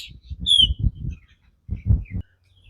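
A bird calls near paddy fields in Anuradhapura, Sri Lanka, giving a few short bright chirps over low rhythmic pulsing calls in two bursts, close and alone without speech.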